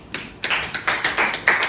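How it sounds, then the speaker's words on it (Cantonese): Classroom applause: a small group of students clapping in a loose, uneven rhythm, several distinct claps close by and moderately loud over about two seconds. "俾啲掌聲先"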